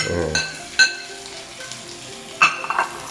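Small onions sautéed in a pan for a fish curry make a close, steady sizzle, broken by two loud knocks of the spoon against the pan.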